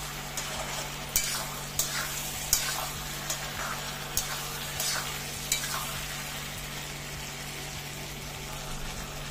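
Vegetables sizzle steadily with spices and red chili powder in a hot pan while a utensil scrapes and stirs in regular strokes, with a low hum underneath.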